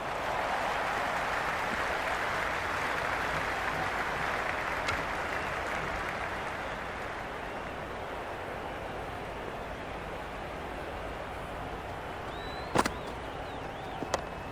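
A large crowd at a T20 World Cup cricket match between Pakistan and the Netherlands creates a steady, distant roar of cheering and applause, with a couple of sharp claps or bangs near the end.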